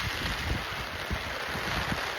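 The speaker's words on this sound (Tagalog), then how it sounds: "Ang lakas ng ulan. Mahangin din." Steady broadband roar of heavy rain mixed with gusting wind, constant and close, with no voices.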